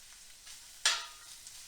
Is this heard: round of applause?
no